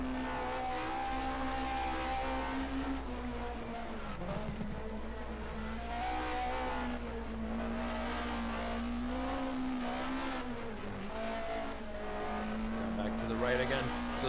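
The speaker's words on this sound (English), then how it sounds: "So Sibignani is finding a way to keep this car rolling despite its problems" A race car runs at the ADAC-Eifelrennen, its engine tone rising and falling steadily through shifts and corners. A commentator talks over it throughout.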